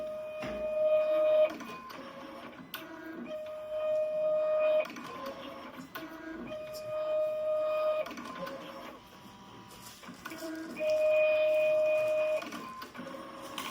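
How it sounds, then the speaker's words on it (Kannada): DTC1500 ID card printer printing a card, a faint mechanical whirring with a repeating high tonal whine in regular cycles about every three seconds. "ಪ್ರಿಂಟ್ ಕೊಟ್ಟಿದ ತಕ್ಷಣ ನೋಡಿ ಅಲ್ಲಿ ಇನ್ಪುಟ್ ಕಾರ್ಡ್ ತಗೊಂಡು ಪ್ರಿಂಟ್ ಆಗ್ತಾ ಇದೆ. ಈಗ ಪ್ರಿಂಟರ್ ಸೌಂಡ್ ಕೂಡ ಕೇಳಿಸ್ಕೊಬೋದು"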